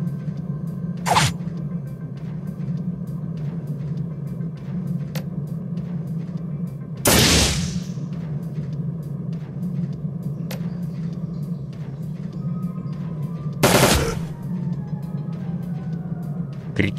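Gunfire from the video game Shadowrun: Dragonfall comes as three sharp, loud blasts spread across a steady low background hum, with no talking.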